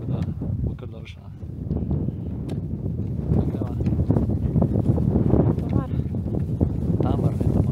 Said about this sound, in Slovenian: Malo piha tle gor